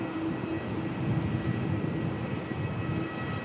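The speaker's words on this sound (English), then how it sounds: "Jetstar making its way out to the runway." Jetstar airliner taxiing out toward the runway at Melbourne airport, a steady distant jet engine whine and broadband roar that holds at an even level throughout.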